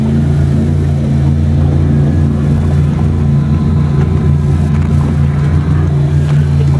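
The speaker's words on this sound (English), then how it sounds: "There goes our new committee boat, making all that noise." A committee boat at a sailing regatta motors close by, its steady mid-range engine drone loud and continuous throughout with a constant low hum.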